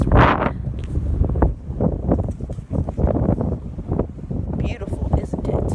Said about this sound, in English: I don't know if I can record in this wind.